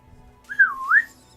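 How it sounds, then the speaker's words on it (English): A person whistles a single short, clear, rising and falling note, close and alone against a faint background. "He whistles, which is impressive considering I was wearing a mask."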